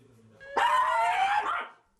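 A dog shut inside a house gives one sharp, loud bark, slightly muffled by walls, after a short stretch of quiet, with a brief murmur of voices before it.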